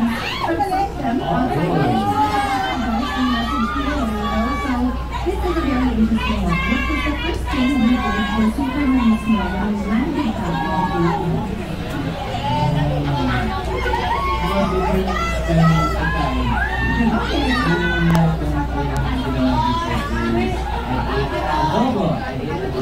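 A large crowd at a concert shouting and cheering continuously, a dense roar of many voices with excited yells rising over it throughout, loud and sustained.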